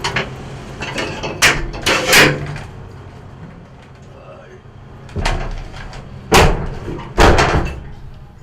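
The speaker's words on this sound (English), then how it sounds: "That's the sound that this Ford van's doors made when they slammed shut" A Ford van's doors slam shut several times, loud heavy thuds arriving in clusters with gaps between, over a background of ongoing voices and street noise.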